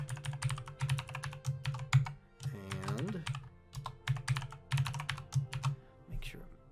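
A password is typed on a computer keyboard as a steady run of close, clicky keystrokes in uneven bursts, with a brief hummed vocal sound partway through.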